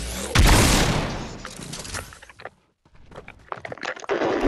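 A heavy blast goes off from the Enhanced Havoc shotgun in a first-person shooter game, then a burst of rapid booms and thuds, fading into scattered impacts and footsteps before another loud shot near the end.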